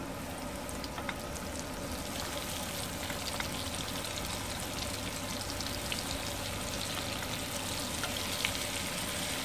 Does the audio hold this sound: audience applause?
no